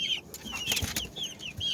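Frizzle and barred rock chickens give short, high clucks and chirps in quick succession, fairly close, over a quiet outdoor background.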